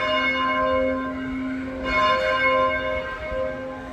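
A church bell rings to call the faithful to Catholic mass in a village, its steady ringing tone sustained throughout with overtones, fairly close and alone without talk.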